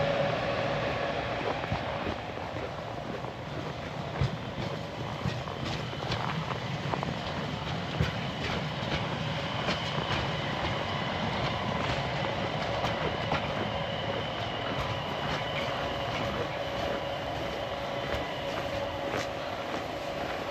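A train at Luleå railway station in the Arctic rumbles and clatters along the rails on an Iron Ore Line journey, a faint, continuous rolling noise with soft clicks and occasional squeaks, heard at some distance.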